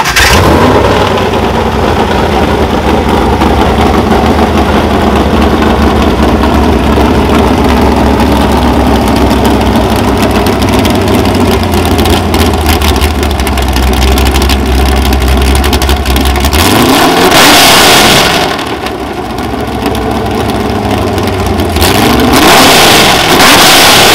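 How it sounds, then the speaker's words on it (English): Mast Motorsports 7.3L Godzilla Ford V8 crate engine running loud and close, a deep rumbling idle broken by two sharp revs that rise and fall near the end. "First, can we hear this thing run?"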